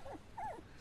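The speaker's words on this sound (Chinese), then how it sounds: "哪来的狗？" A dog gives a short, faint whimper, two brief high whining notes in a quiet room.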